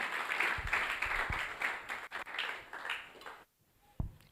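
Faint scattered applause from a church congregation at a Sunday service, soft clapping spread through the room before a brief lull and one last sharp clap.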